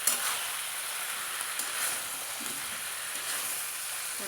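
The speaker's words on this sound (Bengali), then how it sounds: "সব মাছ দিয়ে দিয়েছি, মাছ দিয়ে কষাচ্ছি" Fish or large hill prawns from the Andaman jungle sizzle steadily while being sautéed in a pan, a continuous close hiss with faint stirring clicks and no talk.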